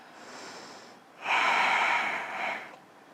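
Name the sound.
deep breathing in and out through the nose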